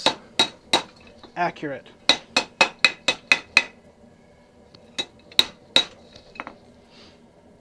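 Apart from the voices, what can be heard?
blacksmith hammering metal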